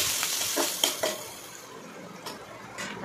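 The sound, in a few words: onions frying in oil in a kadai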